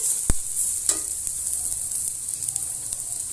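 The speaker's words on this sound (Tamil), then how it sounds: "இப்போ நம்மளுடைய ஆனியன் வந்து நல்லா ஃப்ரை ஆயிடுச்சு" Onions sizzling steadily in hot oil in a pan while cooking a Tamil-style fish fry, with a couple of sharp spatula clinks early on over the continuous frying hiss.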